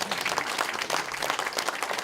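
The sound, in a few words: audience applause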